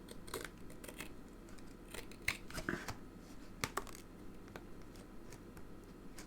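Teflon-coated scissors cut strips of card during card making. Quiet, irregular snips and light paper handling sound close by, with no talking.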